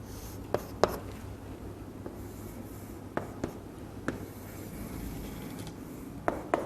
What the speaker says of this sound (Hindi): आइए हम तीनों को लिख लेते हैं.